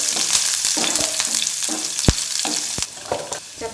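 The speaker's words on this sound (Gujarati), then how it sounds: "રાઈ તતડવા લાગે એટલે આખું જીરું ઉમેરી દઈએ સાથે જ મીઠા લીમડાના પાન મરચાના ટુકડા બધું બરાબર મિક્સ કરી લઈએ" Mustard seeds, whole cumin, curry leaves and chilli pieces fry in hot oil, giving a loud close crackle and sizzle punctuated by repeated sharp spoon knocks and scrapes as they are stirred, with no speech.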